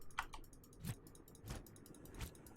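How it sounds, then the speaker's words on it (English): Faint mouse clicks from someone playing Subnautica, a few soft isolated taps spaced apart against a quiet background hum. "Apparently, you can literally hear me clicking."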